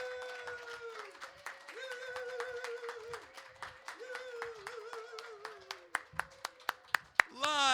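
Small open-mic audience at Soulfood clapping as Joshua Sossamon comes to the stage, a scattering of hands under a talking voice that grows into louder, sharper claps near the end.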